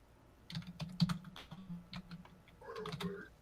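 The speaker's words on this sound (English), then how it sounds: "Oh, you might be typing." Typing on a computer keyboard, a quiet close run of uneven key clicks in short bursts with brief pauses, the strokes clattering faster toward the end.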